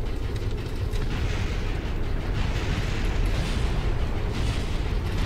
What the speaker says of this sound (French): On entend des explosions